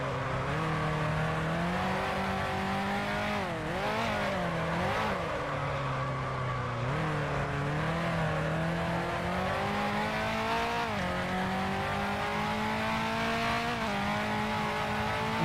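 A Ferrari Tipo 625 race car engine roars in a racing simulator at Zandvoort, a loud, continuous note that rises and falls as the revs climb through the gears and drop for corners.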